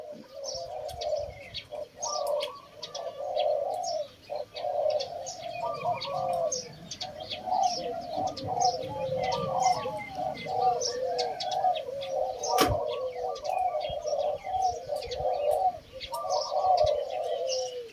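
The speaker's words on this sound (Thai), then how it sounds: "ก็จะร้องแข่งกับเจ้าหัวแตกตลอดเวลา เหมือนเขาสู้กันนะทุกคน" Repeated soft, rhythmic spotted dove coos in a steady pattern, with other birds chirping faintly in the background.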